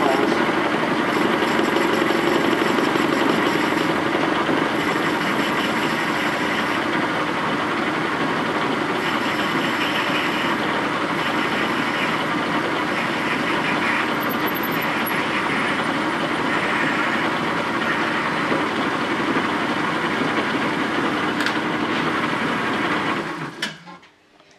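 Power tool cutting through holes in a boat bow thruster part, a loud steady grinding drone with vibration running continuously for over twenty seconds, close by, then cutting off abruptly at the end.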